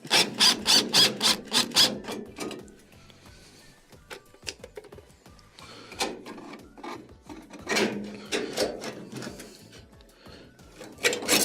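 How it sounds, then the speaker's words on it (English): A Phillips screw is backed out of the rear cover plate on a Samsung washer, heard as repeated bursts of gritty, rasping driver turns and scraping, with quieter fiddly handling in between. "remove the Phillips screw that's holding in the cover plate"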